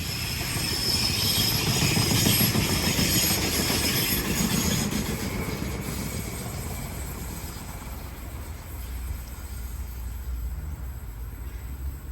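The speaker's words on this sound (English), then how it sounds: "Got another light rail vehicle approaching." A Parramatta light rail vehicle passes on a test run, a loud continuous rolling rumble with high wheel squeal that peaks early and slowly fades as it moves away.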